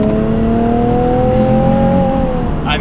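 A Nissan 370Z Nismo engine pulls hard through third gear, a loud, sustained in-cabin drone rising steadily in pitch as it accelerates, with a faint voice near the end.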